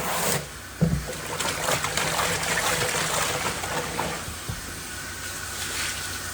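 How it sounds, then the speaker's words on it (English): Water running and splashing while a milking rinse tub is rinsed out, a steady close hiss of flowing liquid with a few knocks of the tub, no talk. "And we'll go ahead and rinse out our initial rinse out tub"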